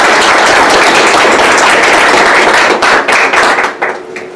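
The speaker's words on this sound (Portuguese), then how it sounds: "Salva de palmas." Applause at a spiritual lecture gathering: dense, steady crowd clapping fills the room at full loudness, then thins and tapers off toward the end.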